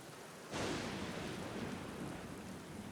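Rain in the video game The Black Mirror, beginning suddenly as a soft steady hiss that then holds evenly, fairly faint and with no talk over it.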